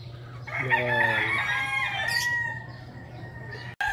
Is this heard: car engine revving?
no